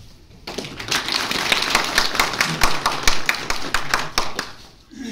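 Crowd at a farewell function for a retiring zonal education officer breaks into loud, dense applause, many hands clapping together close by for several seconds before it fades.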